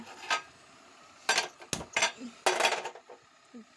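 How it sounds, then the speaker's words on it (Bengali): Metal pot and utensils clatter and clink in a home kitchen while tea is put on to brew, several sharp bursts of banging and scraping with short pauses, close and fairly loud, no talking. "আমি এখন একটু চা বসিয়ে দিই"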